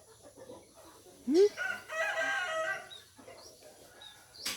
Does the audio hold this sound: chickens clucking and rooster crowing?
yes